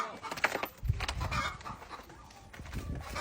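Domestic chickens cluck softly around someone in a village yard during outdoor cooking, several short clucks scattered over rustling and light handling noise, with no talk.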